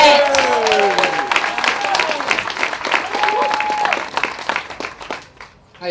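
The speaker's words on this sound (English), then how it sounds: "Round of applause for Brother Ben X." An audience at a community class breaks into loud applause that gradually tapers off, with whoops and cheering voices over the clapping.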